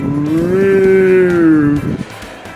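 A portable folding rechargeable fan runs in natural wind mode, its motor giving a loud droning hum that swells and sags in pitch before cutting away near the end.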